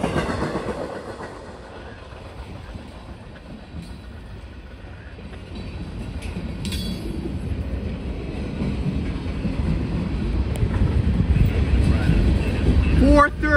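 Freight train led by an SD40 locomotive passing at sunset: steady rumble and clatter of rail cars building louder over time, with someone speaking over it.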